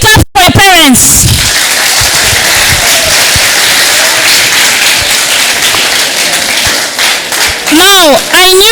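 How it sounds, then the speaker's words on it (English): Student symposium audience clapping for parents, a loud dense wash of many hands in a hall, framed by brief shouts and cheering voices at the start and end. "Please, can you clap for your parents?"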